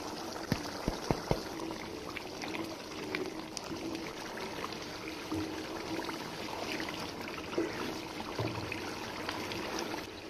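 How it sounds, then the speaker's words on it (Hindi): Water poured into ground spices in a karahi while making beef karahi, a steady soft pouring and sizzling wash with a few light clinks early on, continuous and close. "थोड़ा सा पानी शामिल करेंगे ताकि मसाले भी अकलान हो जाएं।"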